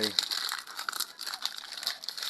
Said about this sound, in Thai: ลูกอย่างนี้เราก็จะเอาถุงใส่แล้วก็พับแล้วก็ กีบใบ